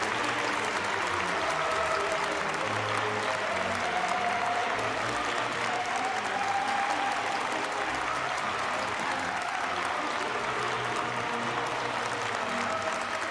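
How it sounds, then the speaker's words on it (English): A large audience applauding laureates at the Sunhak Peace Prize award ceremony, sustained even clapping that fills the hall steadily for over ten seconds, with faint crowd murmur beneath. "all our laureates a very warm round of applause."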